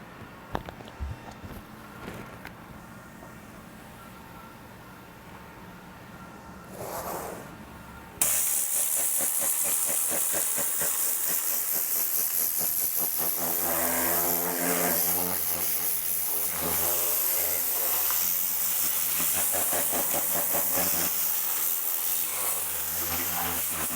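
A spray gun blasts oil-based rustproofing into a car's wheel well, a loud, continuous hissing rush that starts abruptly after a quieter stretch of workshop noise and carries on without a break.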